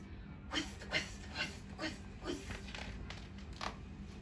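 A voice imitates a rotating lawn sprinkler with a series of breathy, rhythmic bursts, about seven of them at a steady pace, close and fairly quiet.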